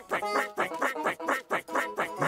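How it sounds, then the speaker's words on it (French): Cartoon ducks quack in a rapid, busy chorus, about a dozen loud nasal quacks crowding one another up close. "avec le bruit que faisaient ces canards"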